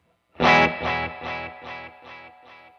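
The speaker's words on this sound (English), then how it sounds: "It's a really, really clean vintage tape echo." Universal Audio Starlight pedal set to a clean, mint-condition vintage tape echo with light modulation: one bright struck note followed by about five evenly spaced repeats, each fading a little quieter, alone with no talking.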